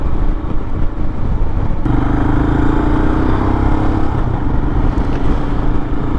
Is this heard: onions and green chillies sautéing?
no